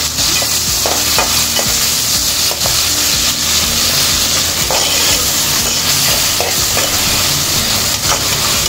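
Tomato being sautéed and stirred in a hot pan for a fried drumstick gravy, a steady loud sizzle running throughout with repeated scraping stir strokes and no talking.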